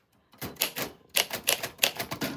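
Typewriter keys struck in quick irregular bursts of clacks, close and fairly loud, with brief pauses between runs and no talking.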